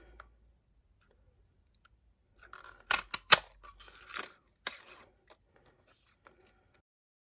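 A snowman-shaped paper punch cuts through paper for a Christmas tag, giving a few sharp clicks and crunches close up, then quieter taps, with no talking.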